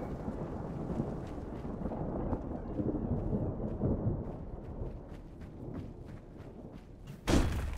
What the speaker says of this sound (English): Whoa, did that lightning strike right next to me?